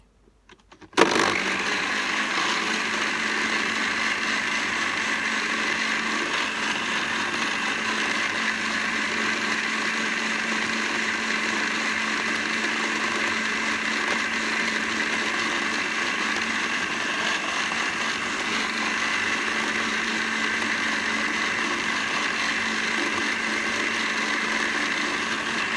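A blender mixing homemade liposomal vitamin C starts abruptly and runs at a steady, loud, constant whir for about twenty-five seconds with no break.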